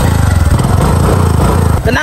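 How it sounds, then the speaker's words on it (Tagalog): A motorcycle engine revs close and loud, with a rapid throbbing beat that holds steady before a brief dip near the end, while a voice talks over it. "Tanawa, kung unsa ni kakusgan akong motor."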